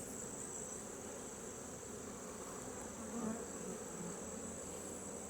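Honey bees hum around an open hive that has been requeened with a virgin queen, a faint, even, continuous drone holding steady throughout with no talking, ending in a brief sharp bump.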